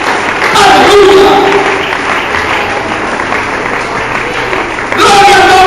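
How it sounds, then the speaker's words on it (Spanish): A church congregation claps together in a loud, dense wash of applause, with voices calling out over it and a fresh surge near the end. "Los que lo crean, den un aplauso en esta hora."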